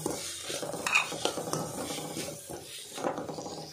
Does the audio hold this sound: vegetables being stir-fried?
yes